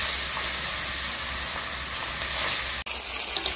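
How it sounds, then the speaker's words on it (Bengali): Japanese puti fish frying in hot oil in a wok give off a steady, close sizzling hiss that holds throughout, with one brief dropout near the end and no talking. "এবারে আমি মাছগুলো ভাজতে দিয়ে দিচ্ছি।"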